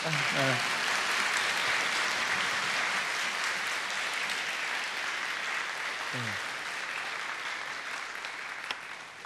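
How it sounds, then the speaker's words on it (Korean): A church congregation applauding during a Wednesday service, dense steady clapping from a large group that gradually tapers near the end, with a brief voice or two underneath. "우리 한번 우리가 할 수 있는 뜨거운 박수로, 힘찬 박수로 한번 격려합시다"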